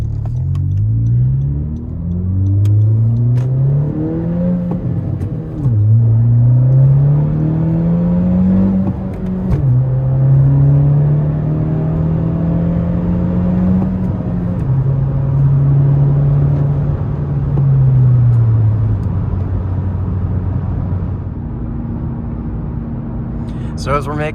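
A 2017 Honda Civic Si Coupe pulls away from a hill start, its engine loud and close, rising through the revs, dropping at each gear change, then settling to a lower cruise as a person talks over it.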